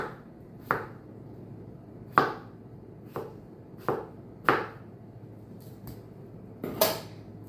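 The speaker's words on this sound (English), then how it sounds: "what I'm going to do is cut them in half and then slice them about 1/2 inch thick" A knife slices halved cucumbers into thick half-inch pieces for pickles, giving about eight sharp, close chops on a board at an uneven pace, with quiet gaps between them.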